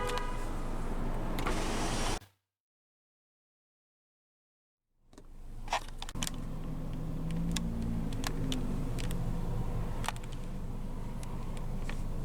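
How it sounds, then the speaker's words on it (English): A 2014 Subaru Forester 2.5i Touring's driver's-side power window motors down with a steady electric whir inside the car, after a brief silent gap and among small clicks and cabin noise. "we'll go ahead and roll down the driver's window"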